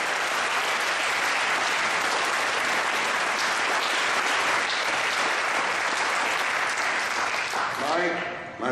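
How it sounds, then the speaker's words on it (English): A Toronto award ceremony audience breaks into sustained, dense applause, a full, even wash of clapping that holds steady for several seconds before tapering off as a voice begins. "Let's have a round of applause for these jeanlumb alumni."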